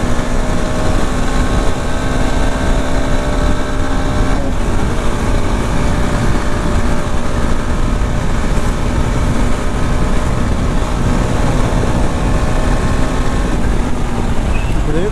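Yezdi Adventure BS6 motorcycle engine held at high revs at top speed, a loud steady drone with constant wind roar that runs unbroken throughout.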